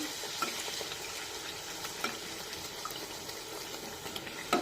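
Poha puri frying in hot oil over a medium flame, with oil spooned over it, makes a continuous soft sizzle and bubbling and a few small pops. No one speaks.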